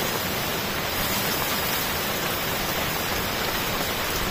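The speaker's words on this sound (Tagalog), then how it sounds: "Lumalakas na. Lalakas na naman yung tulo ng" Dense, steady downpour during Typhoon Gener hisses loudly and evenly, a constant wash of heavy rain with no voices or breaks.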